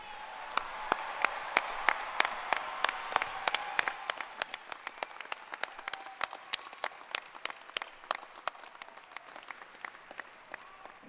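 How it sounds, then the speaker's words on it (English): An audience applauds new alumni at a spring morning commencement ceremony, with fuller clapping at first that thins after a few seconds into scattered, distinct individual claps in a large hall, continuing for about eleven seconds. "please join me in one more round of applause for our new alumni"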